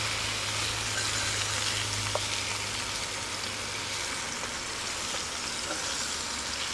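Crispy-skin salmon sizzles in a pan on a Hestan Cue cooking system, a steady, fairly faint hiss of hot fat with a few small pops and no talking.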